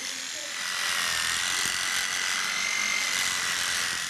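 A small electric facial cleaning brush runs loudly and steadily for several seconds, a continuous high-pitched buzzing whir with no one talking over it.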